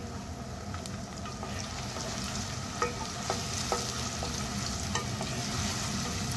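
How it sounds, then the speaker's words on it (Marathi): Finely chopped onion sautés in hot oil for Kolhapuri misal, giving a soft, steady sizzle. A few light clicks of a spoon stirring the pan come through, and nobody speaks. "तेल चांगलं तापल्यावर ह्यात आपल्याला एक मोठा बारीक चिरलेला कांदा घालायचा आहे। कांदा आपण थोडासा परतवून घेऊया।"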